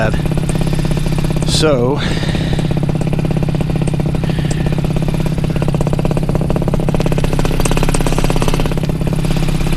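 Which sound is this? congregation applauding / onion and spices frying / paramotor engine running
paramotor engine running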